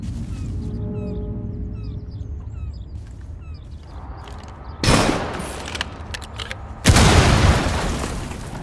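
Two loud explosive shots hit a container in a video game, each a sudden heavy blast with a decaying rumble, about two seconds apart, following a quieter stretch of faint ambient tones.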